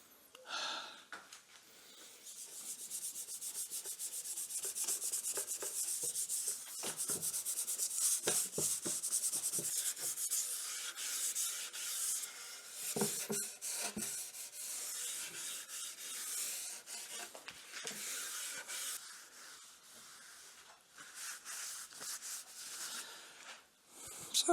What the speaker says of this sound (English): I'm going to rub this thing down with my mixture of